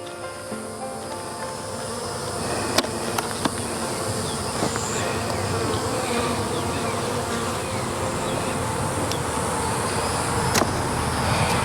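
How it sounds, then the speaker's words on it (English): Dense, continuous buzzing of many honeybees close by in an opened hive box, a steady hum with a few sharp clicks and knocks scattered through it. "you can really tell about how the bees are feeling about you being in the box by their buzz"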